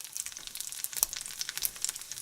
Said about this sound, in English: So I'm just going to saute this up here